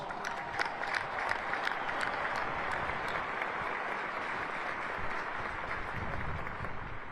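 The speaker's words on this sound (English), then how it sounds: "Let's give them a round of applause." A large outdoor crowd of families and friends applauds steadily at a United States Military Academy graduation ceremony, a dense, sustained wash of clapping at moderate distance with scattered sharper claps, no talking.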